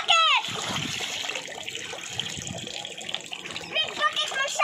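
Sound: child splashing water while showering in a big bucket

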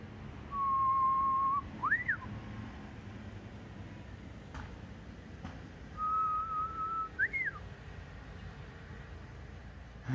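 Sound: person whistling to imitate bird calls

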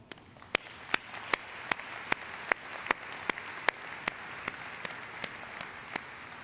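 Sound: applause at BMW X3 premiere

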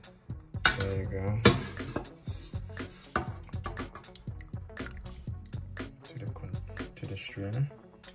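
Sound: scooping cooked vegetables from turkey stock into a strainer

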